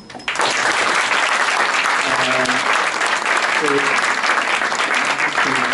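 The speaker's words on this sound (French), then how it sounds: "je pense qu'elle mérite l'applaudissement" Loud, close applause breaks out at a political book fair debate, sustained clapping from the audience that starts abruptly and holds steady, with a few faint voices underneath.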